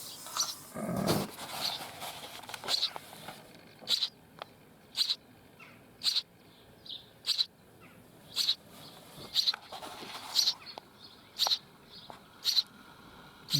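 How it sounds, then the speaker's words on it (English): Sparrow chicks nesting inside an old pipe give repeated short, high cheeping bursts at a steady rhythm, close and fairly clear over a soft background, with one louder rustling thump near the start. "there's some chicks in there at the moment"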